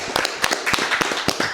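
A small group of podcast hosts claps for Andrew in a short, sparse burst of sharp, uneven hand claps, fairly close and with no talking.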